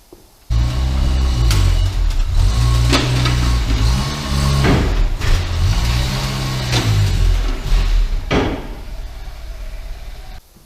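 An old car engine idling and revving as it drives up onto a dyno rolling road, with several rising and falling revs and a couple of sharp knocks, close and loud, no speech.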